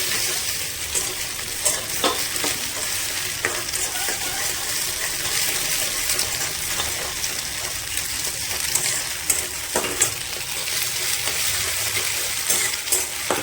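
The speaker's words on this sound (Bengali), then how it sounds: "লাল লাল করে ভাজা হবে।" Egg mixed with onion frying in a pan, a continuous crackling sizzle with small clicks and taps of stirring scattered through, close and fairly loud, no talking.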